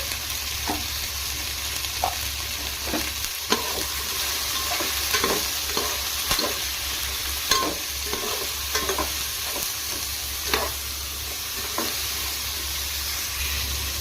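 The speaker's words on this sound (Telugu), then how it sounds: "ఈ విధంగా ఫ్రై చేసుకునేటప్పుడే కొంచెం సాల్ట్ యాడ్ చేసుకోండి" Stuffed eggplants fry in oil with salt added, giving a constant close hiss and sizzle under a low hum, punctuated by scattered clicks and scrapes of stirring in the pan, with no speech.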